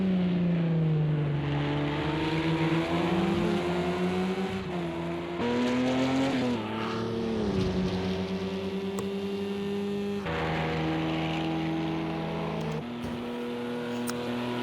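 GTE race car engines at Le Mans in a sim racing game, a steady droning engine note that shifts pitch with gear changes and throttle, continuous and close, without talk.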